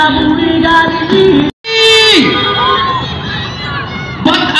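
A large crowd at an afternoon thanksgiving concert in a town plaza shouts and cheers loudly, with a brief break before a fresh burst of massed yelling and children's shouts.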